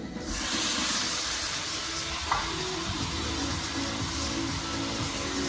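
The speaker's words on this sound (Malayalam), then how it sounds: "നമുക്ക് ചിക്കൻ ചേർത്ത് കൊടുക്കാം." Raw chicken goes into hot masala for a curry and hisses in a loud, steady sizzle, with a brief clink partway through.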